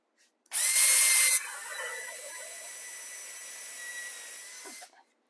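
A drill with a countersink bit bores into very dry, hard white oak. A loud whirring burst comes first, then a lower, steady grinding whine for about four seconds before it cuts off, with no talking.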